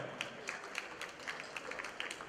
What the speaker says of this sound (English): another round of applause for our delegate from Indonesia